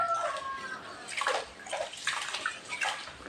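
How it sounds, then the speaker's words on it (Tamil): Soaking rice is washed by hand in water, giving repeated close sloshing and swishing strokes in a steady rhythm, with no talk. "அரிசியை கிளைய வேண்டும்."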